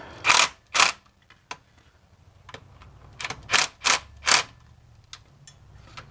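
On a 2001 Nissan Altima engine, bolts are tightened in a series of sharp, close metallic clicks and ratchet bursts, some spaced apart and others in quick groups, against a quiet background.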